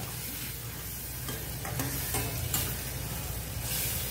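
Ground turmeric, coriander-cumin powder, garam masala and Kashmiri chili powder sautéing in oil for egg butter masala, making a quiet, close sizzle broken by scraping stirring strokes in an uneven rhythm.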